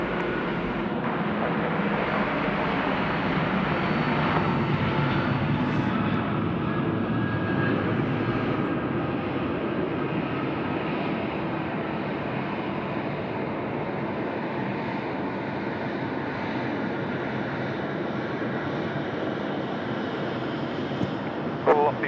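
A fixed-wing airliner landing at Sydney Airport at night, its engine roar loud and steady throughout, with a faint radio voice in the background.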